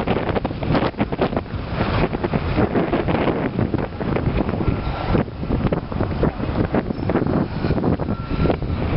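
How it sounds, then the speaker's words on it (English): Strong wind buffeting a microphone on a windy bike path along the Manhattan Greenway in New York City, a loud continuous rumbling roar with gusty swells and no talk. "It's certainly very windy."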